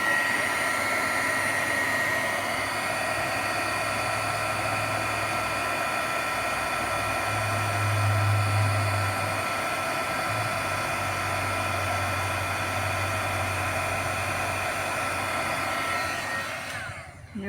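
Heat tool blowing hot air over a die-cut poinsettia craft piece: a loud, continuous fan roar with a steady whine, unbroken for about seventeen seconds before it cuts off.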